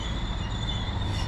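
A passenger train passes through a station early in the morning, with a steady rolling rumble and a sustained high wheel squeal, close and continuous.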